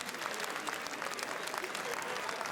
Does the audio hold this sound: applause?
yes